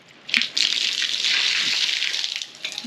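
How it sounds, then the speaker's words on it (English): Collected rainwater pours off a gazebo roof in a sudden splashing gush that runs for about two seconds, close by, then trickles away, with no talk. "there's a lot of water to come out of there."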